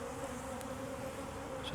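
Defensive honey bees hum steadily around an opened hive being inspected for requeening, a thick, constant buzz with bees darting near and away.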